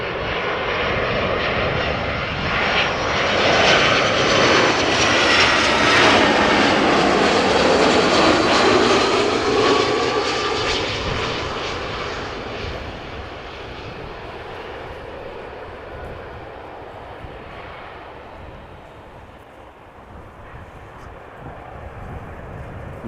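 EasyJet Airbus A319 from Venice landing at Amsterdam Schiphol, a loud jet roar that builds to a peak as it passes close, then fades into a lower rumble.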